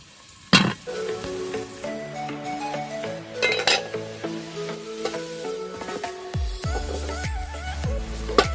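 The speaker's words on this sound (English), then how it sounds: "Now that the onions have started turning brown, I'll go ahead and add in the tomatoes." Tomatoes frying with browned onions in a pot over a village cooking fire for a traditional Kenyan dish, giving a steady sizzle with clinks of a utensil against the pot, a sharp knock near the start and louder stirring scrapes toward the end.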